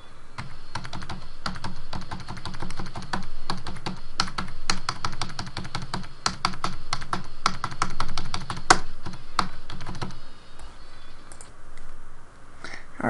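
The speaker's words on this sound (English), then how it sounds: "Just press the star on your numpad side of your keyboard whenever you want the beat to be." Rapid clicking keystrokes on a computer keyboard, a dense continuous run of close, crisp taps for about ten seconds that then thins to a few scattered presses.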